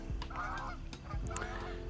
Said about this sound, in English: we got some Canadian geese flying by